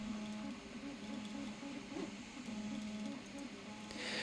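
An Anet A8 3D printer runs during assembly, its stepper motors giving a steady, close whirring hum with a repeating stepped tonal pattern.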